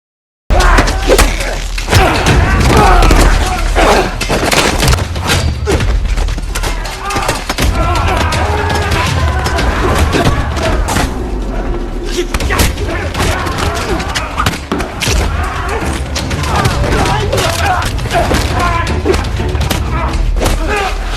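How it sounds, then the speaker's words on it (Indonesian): Film battle scene at night with soldiers surrounded by North Korean troops: dense bursts of gunfire, heavy thuds and explosions with shattering debris, loud and continuous, with shouted voices mixed in. "Dan pertempuran pun tidak dapat dihindarkan lagi."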